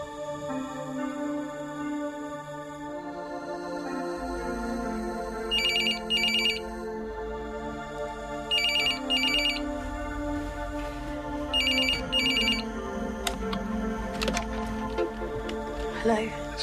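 A telephone rings in short double bursts, repeating three times under music and background noise.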